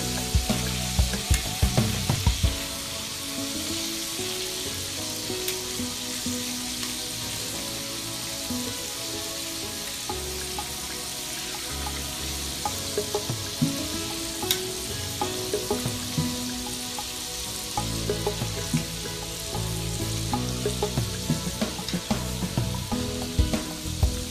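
Frog legs fry in a pan with a steady, close crackling sizzle that swells and eases, with occasional stirring scrapes and spatters, with no talk.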